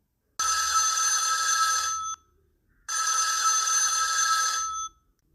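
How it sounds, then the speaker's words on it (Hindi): A telephone bell rings twice, each ring a loud, bright trill lasting nearly two seconds, separated by a short silent pause. "2 रिंग बजने के बाद लॉरा ने अपना फ़ोन रिसीव किया।"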